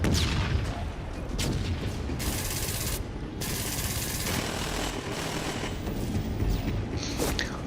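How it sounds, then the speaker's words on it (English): Remote explosives go off in the online shooter Dust 514 as a dense, loud, continuous roar of blasts and crackling gunfire-like bursts, briefly dipping once midway. "you could like just try and run in with some remote explosives, hope you're not noticed, and then detonate a load of people"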